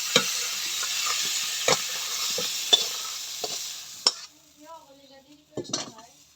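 Spices fried in oil in a wok for a thin boal fish curry: a bright hiss of sizzling oil punctuated by sharp clinks of a spoon on the metal, which stops about two-thirds through, giving way to quieter clatter.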